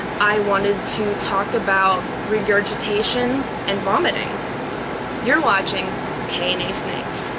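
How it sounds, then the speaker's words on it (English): An air conditioner running on a humid day gives a steady low hum in the background, constant beneath a person speaking in the foreground. "I wanted to apologize in advance if you can hear the air conditioner in the background."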